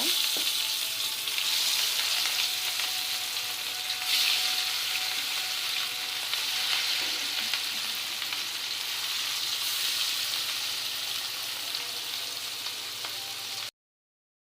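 Tender young bottle gourd fries in a pan with a loud, steady, hissing sizzle that runs unbroken for about fourteen seconds, close up and with no voices, then cuts off abruptly.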